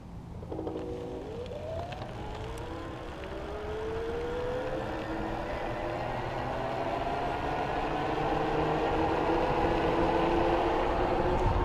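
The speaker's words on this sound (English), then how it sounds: "Now I'm gonna change it up a little bit and use the trigger throttle and just gun it. You can hear how the motor responds to that." Geared hub motor of an e-Joe One prototype hardtail electric mountain bike accelerating on the trigger throttle: a whine that rises steadily in pitch over several seconds, with a growing hum of wind and tires beneath it.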